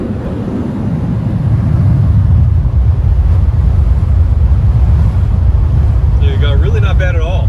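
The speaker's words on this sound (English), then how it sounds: "I'm going to open the moonroof and we can compare the wind noise" Steady, loud wind roar rushes through the open moonroof of a moving Toyota RAV4 Prime, a broad continuous buffeting recorded close inside the cabin, with a brief high whistle near the end.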